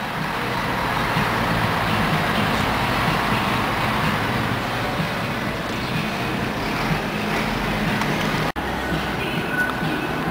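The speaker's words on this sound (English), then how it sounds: "There was another car did a friggin' left-hand turn. It came out beside the bus." Steady street traffic in Jeju City, with cars, trucks and a bus passing. The roar is continuous and moderately loud, with constant engine and road noise throughout.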